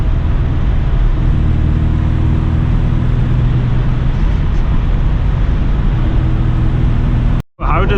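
Engine of an MG MGB car while driving, a loud, steady low rumble mixed with road and wind noise, heard from inside the cabin without a break before a sudden cut at the very end.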